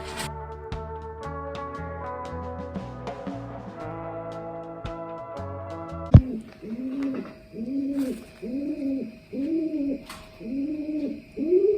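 A baby pigeon in rehabilitation coos close by in a regular series of soft, throaty pulses, about one per second. The coos follow a few seconds of unrelated clicks and tones.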